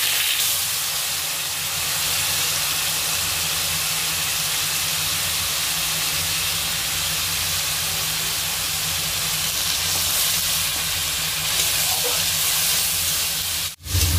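Ground onion paste frying in hot oil with a tempering of whole spices and dried fenugreek leaves, giving a steady loud hiss and sizzle that runs unbroken and close, ending with a brief sharp knock.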